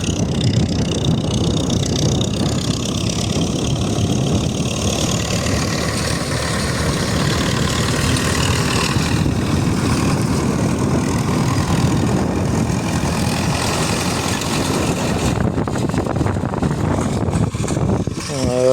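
The diesel engine of an MTZ 82.1 tractor runs steadily while it sows wheat into dry, dusty soil. The rumble is loud and close and holds an even drone throughout, with some brief clanks near the end.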